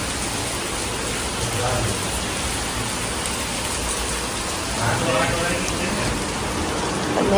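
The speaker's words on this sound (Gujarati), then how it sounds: "અહીંયા જો ધોધમાર વરસાદ વરસી રહ્યો છે" Heavy downpour near the Ganges at Haridwar: a dense, steady roar of rain hammering down, loud and continuous throughout, swelling slightly toward the end, with a voice faintly mixed in.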